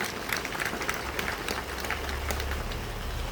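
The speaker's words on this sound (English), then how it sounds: "Why don't you give yourselves a round of applause?" Audience at a Tangaza University ground breaking applauds themselves, a fairly quiet, scattered outdoor clapping with some distinct hand claps over a low rumble, steady for a few seconds.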